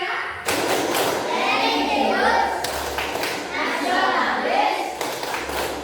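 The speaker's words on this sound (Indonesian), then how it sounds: "coba yuk kita sama-sama dulu tepuk PPK" A classroom of children doing a patterned clapping chant, rhythmic group claps and thumps mixed with children's voices chanting along, fairly loud and close throughout.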